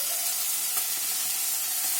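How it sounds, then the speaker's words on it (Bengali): Prawns frying in a pan give a steady, fairly quiet hiss of oil sizzling with no break, and nobody talks over it. "চিংড়ি মাছগুলো ভেজে নেবো"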